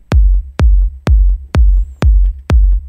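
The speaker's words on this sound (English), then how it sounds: "a lot of the times you'll have a kick that is, you know, sounds like this" A kick drum sample with a rubbery, boomy low end, struck six times at an even mid-tempo pulse, each hit loud and close with a short click and a long low tail, and no voices.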